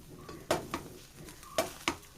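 A spoon stirs mackerel fish curry in a pan, with a few distinct scrapes and clinks against the metal spaced unevenly over a low simmering sizzle, close and fairly quiet, with no talking.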